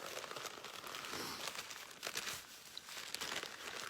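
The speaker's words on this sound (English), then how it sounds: "And then we're going to do the same accordion fold." Paper accordion-folded for craft paper flowers gives a soft, continuous crinkling and rustling, faint and close, with no voices.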